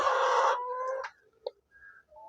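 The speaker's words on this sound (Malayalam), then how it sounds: "പല രീതിയിലുള്ള കോഴികളാണുള്ളത്" A native hen gives a loud, drawn-out call, followed by a few soft, short clucks in an otherwise quiet setting.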